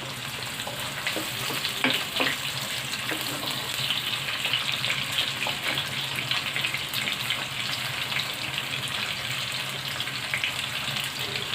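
Chopped onions frying in a pan while a chicken and spinach dish is cooked, giving a continuous even sizzle with a watery hiss and faint stirring clinks, close and steady throughout.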